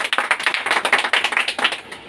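An audience at a talk gives a quick round of clapping, brisk and fairly even, a couple of seconds of hand claps at moderate volume that taper off at the end.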